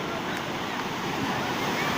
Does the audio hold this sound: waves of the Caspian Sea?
yes